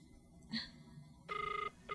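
A cellphone rings in an indoor drama scene, a short tonal electronic ringtone burst followed by a second starting, loud and near over faint room background.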